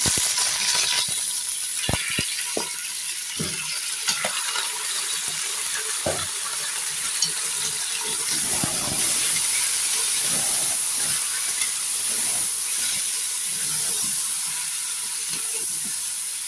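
Chicken frying in a pot with tomatoes, giving a continuous loud hissing sizzle with steam throughout and occasional knocks and scrapes of a spoon stirring the pan.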